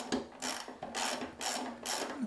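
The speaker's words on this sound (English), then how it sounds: "The first one to undo is this bolt here. You have to hold a spanner, 13 spanner on one side." A 13 mm spanner works a new, long stainless steel bolt free on a BMW 1150GS motorcycle's tank in four rasping, ratchet-like strokes, close up and moderately loud, with no speech.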